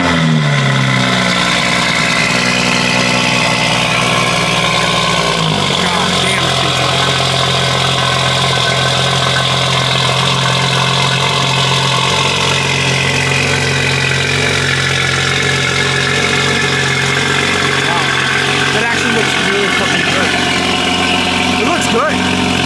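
A Toyota Supra MK5 fitted with a Boost Logic titanium exhaust idles loud and close, starting with a higher, faster idle that drops after a few seconds and settles into a steady low burble.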